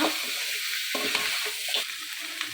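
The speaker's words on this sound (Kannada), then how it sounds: "ಆ ಮಟನ್ನ ಹಾಕಿ ಚೆನ್ನಾಗಿ ಆ ಎಣ್ಣೆ ಒಳಗೇ ಫ್ರೈ ಮಾಡ್ಕೊಳ್ಳೋಣ" Mutton pieces frying in oil with garlic and onion, a steady close sizzle broken by a few stirring scrapes, with no one talking.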